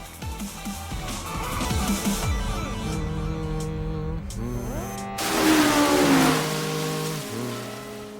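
Toyota 86 cars racing with engines revving hard, rising and falling pitch sweeps layered over a dense mix of music-like tones, surging louder near the end.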